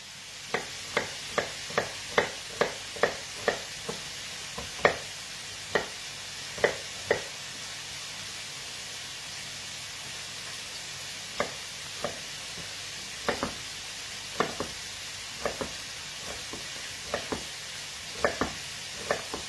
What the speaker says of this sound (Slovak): Ja si už nakrájam cibulku, pretože ju budem potrebovať.